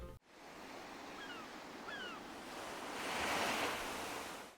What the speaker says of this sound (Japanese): 環境音は海が近いので海にしておきます。